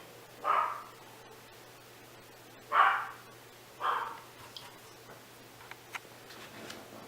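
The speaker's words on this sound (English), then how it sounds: "Sorry if you guys hear my dog in the background." A dog barks three times in a quiet room, with a pause after the first bark and two closer-spaced barks after it, then faint clicks.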